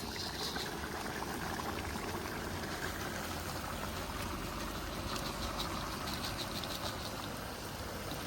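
Meat simmering in a kazan for plov, about half an hour into cooking, gives a steady, even bubbling hiss that runs unchanged throughout, moderately quiet, with no one speaking.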